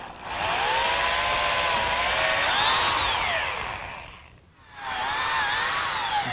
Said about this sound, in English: Next I'm going to drill a hole all the way through